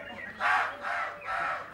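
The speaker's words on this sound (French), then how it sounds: "alors que les oiseaux chantent" Bird calls in a French theatre sketch, three drawn-out cawing or cooing calls in a steady rhythm, fairly loud and close, with no spoken words.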